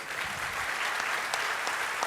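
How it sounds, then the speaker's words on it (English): Audience at a chef's presentation giving a round of applause, a dense, even wash of clapping from a sizable crowd sustained throughout, with a few sharper claps standing out. "please, a round of applause"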